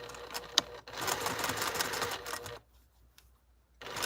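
A sewing machine stitches a pocket at close range, running in a rapid mechanical whir for about two seconds before stopping briefly and starting again at the end.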